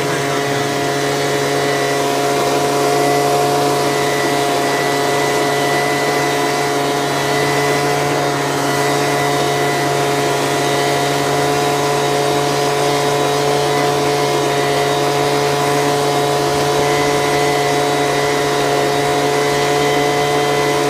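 Leaf blower clearing grass clippings off a freshly edged sidewalk, a steady loud engine drone with a strong tonal hum running continuously and close by, with no breaks.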